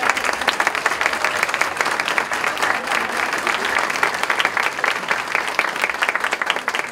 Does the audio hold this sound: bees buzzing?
no